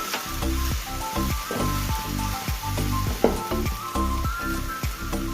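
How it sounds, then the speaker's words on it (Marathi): Onion and garlic sizzle steadily in a hot pan, with a dense crackling hiss throughout and repeated low knocks of stirring against the metal, close and fairly loud, with no voices. "कांदा इथं भाजून घेऊया मी. कांदा आणि लसूण बरं भाजले की याच्यामध्ये आम्ही मिरची घालूया."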